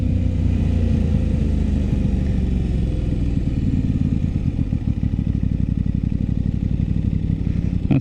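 Aprilia RS 660 motorcycle engine held at high revs while riding, a steady loud buzzing drone with a fast vibrating pulse that grows coarser toward the end, heard alone without talk.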